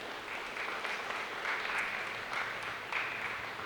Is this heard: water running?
no